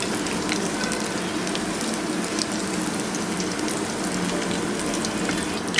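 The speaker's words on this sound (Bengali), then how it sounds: "চিকেনগুলো খুব সুন্দরভাবে ভেজে নিব।" Chicken popcorn pieces deep-frying in hot oil, a loud, constant crackling sizzle with dense bubbling and scattered sharp pops, close and uninterrupted.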